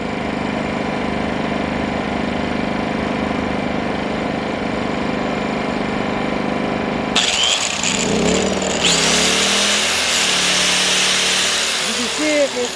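WEN 2000 inverter generator running with a steady droning engine hum, then ramping up abruptly partway through as a load comes on, its tone rising and roughening into a louder, busier whine.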